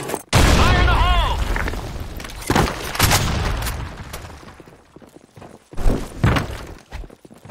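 Grenade explosion in the video game Blackshot, a loud, close boom with a ringing tail, followed by further thuds and gunfire-like bursts in a combat scene.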